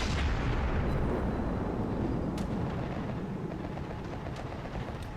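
Anti-aircraft guns on a warship in World of Warships fire in a dense, continuous barrage of booming thuds and rumble, loud throughout with occasional sharper cracks.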